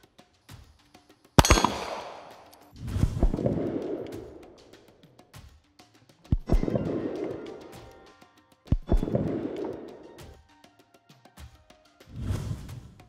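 Gunshots from a Lionheart Industries Regulus double-action-plus pistol: about five loud, sharp reports spaced a few seconds apart, each followed by a rumbling, echoing decay, with near silence between shots.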